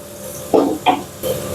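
Chopped beans and carrots tossed into a pan with onions for veg lollipops, heard as three short clattering stirs and scrapes of a spoon against the pan over a faint background hum.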